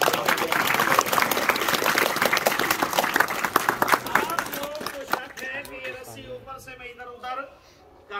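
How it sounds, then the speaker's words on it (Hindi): Applause for Saeed Rehman at a school magic show, brisk clapping from a crowd of children that fades after about five seconds into talking and chatter. "सईद रहमान साहब के लिए तालियां"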